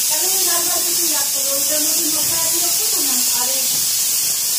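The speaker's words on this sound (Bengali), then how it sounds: "এদিকে সিটি পড়ছে মাংসে" Pressure cooker whistling while goat meat cooks, a loud continuous steam hiss filling the kitchen, with someone talking over it throughout.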